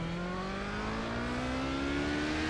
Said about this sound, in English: Car sounds a little angrier.